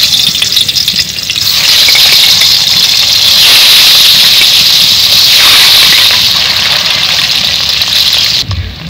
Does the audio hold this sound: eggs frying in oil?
yes